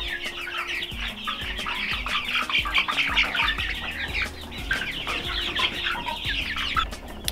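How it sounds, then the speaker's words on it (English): Meat chickens on a New Zealand homestead cluck busily while feeding, a dense, continuous chorus of overlapping clucks and chirps close at hand, with occasional wing flutters. "I don't think people comprehend just how frankenbird our meat birds really are"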